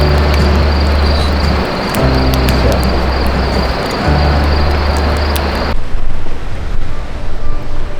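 Water rushing into a massive drain hole at a dam in Washington or Oregon, heard as a loud, constant roar with a steady low hum beneath it, easing into a softer, gustier rush toward the end.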